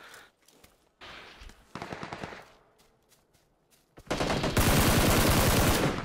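Gunfire in PUBG on Xbox One X: scattered single shots and short bursts, then a loud, sustained volley of rapid automatic fire near the end.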